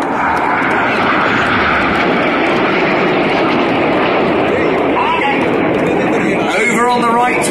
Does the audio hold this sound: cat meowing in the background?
no